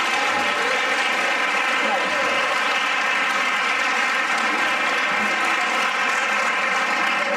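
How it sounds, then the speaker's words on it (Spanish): Applause at a women's rights and human rights panel hosted by Spain's Equality Ministry, a steady dense clapping from the audience filling the room throughout, with no voices standing out. "un aplauso"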